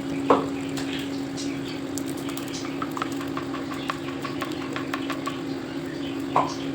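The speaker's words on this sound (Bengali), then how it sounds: "দেখো এখানে আমি কড়াইতে লইট্টা মাছটা দিয়ে দিলাম।" Loitta (Bombay duck) fish frying in a wok, giving a steady, moderate sizzle over a constant low hum, with scattered light clicks and a couple of sharper knocks.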